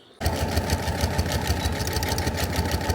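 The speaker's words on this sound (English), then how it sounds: "I'm gonna try to sew it in the sewing machine" A sewing machine stitches a cosplay costume strap, starting abruptly and running at a fast, even mechanical rhythm with a low motor hum and repeated needle ticks, loud and close, with no talk.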